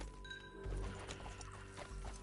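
Horse hooves clop in a steady gallop rhythm in Red Dead Redemption 2, set against a dense, continuous game soundscape with a low rumble, all at moderate volume without speech.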